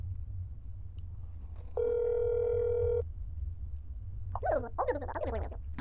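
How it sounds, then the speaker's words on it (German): A rotary-dial telephone in the horror game That's Not My Neighbor gives a steady, clear tone lasting about a second, followed by a short burst of faint, rapid clicks and chirps, with no voices. "Ah, geil, diese Telefone mit der Telefonscheibe noch."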